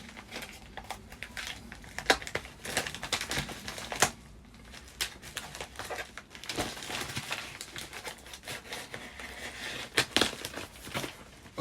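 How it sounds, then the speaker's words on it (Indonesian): Crinkling plastic and paper of a tightly sealed parcel from Malaysia being cut open with scissors indoors, a steady run of close rustles, snips and crackles with sharp peaks, no talking. "Jadi saya akan mengguntingnya di sini dulu."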